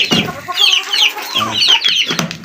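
A hen clucks repeatedly at close range beside her chicks, the calls loud and continuous, with faint high chick peeps mixed in.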